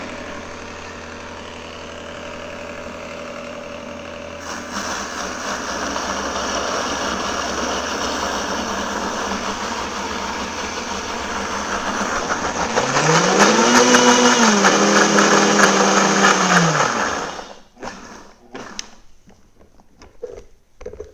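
A kitchen blender purees smoked cauliflower, cutting in with a loud steady whir, rising and wavering in pitch as the load shifts, then spinning down and stopping near the end, with no talk over it.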